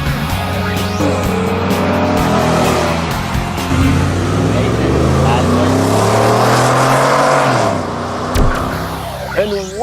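2015 Lincoln Navigator engine pulling a big trailer uphill in a towing test, a loud near drone climbing in pitch and then dropping, with people talking over it.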